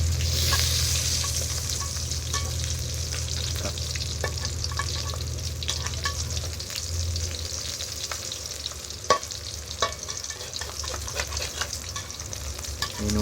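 Mackerel fries in a pan, a continuous crackling sizzle with scattered pops and spatters that stays steady and close, with no talking.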